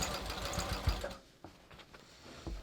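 A sewing machine stitches straight through a clipped seam allowance on jeans, a close, steady mechanical whirr for about the first second, then a quieter stretch broken by short clicks and a brief final burst of motor.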